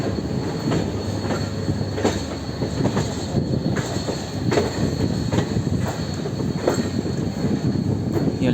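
Passenger train rolling through the Guwahati coach maintenance depot, steady rumble of wheels on rail with rhythmic clicks and a few metallic squeals, close and continuous with no talking.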